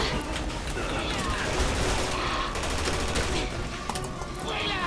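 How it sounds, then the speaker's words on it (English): A helicopter's rapid automatic gunfire in Resident Evil 6 rattles in dense bursts through the whole stretch, loud and close, with intermittent gaps and faint game ambience underneath. "the chopper's just rotating around, and then it's shooting me again"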